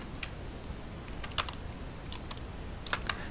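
Keys tapped on a computer keyboard, including the Alt key, make a few sharp, close clicks scattered over a few seconds against a quiet room background.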